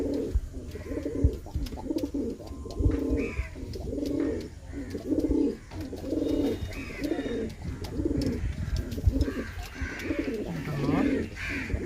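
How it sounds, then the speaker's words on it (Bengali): Pigeons coo in a steady, repeating rhythm, low throaty calls close by, with faint background noise between them. "এটা মাদি, খুব ভালো ব্লাড লাইনের পায়রা।"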